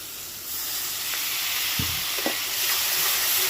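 Pointed gourd stuffed with shrimp, sautéed in a masala with cumin powder, gives a strong, even hissing sizzle with a few soft scraping stirs, close to the pan.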